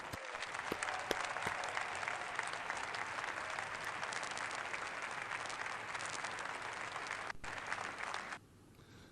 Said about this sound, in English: Now that deserves enormous applause.